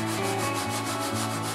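Steady rhythmic rubbing of sandpaper on a light, rot-proof composite fibre panel, close and fairly quiet, with regular back-and-forth strokes and no voices.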